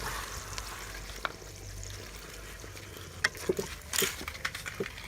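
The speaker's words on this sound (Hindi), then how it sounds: "अब इसमें थोड़ा सा हमने प्याज़ों को गर्म किया है, अब इसमें हम टमाटर डाल देंगे।" Chopped tomatoes hit hot onions in a pan, giving a faint steady sizzle with a few sharper clatters and spatters toward the end, no talking.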